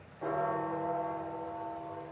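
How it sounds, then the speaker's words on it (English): A church bell tolls over St. Peter's Square in Vatican City, marking the death of Pope Francis: a single deep, resonant strike rings out and hangs in a long, sustained hum with no one speaking. "you'll hear gongs of the bell. Each one of those gongs represents 1 year of Pope Francis's life."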